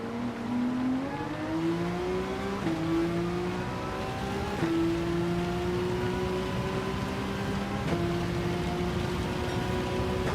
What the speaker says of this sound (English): the rain, chat. It's going to go really heavy.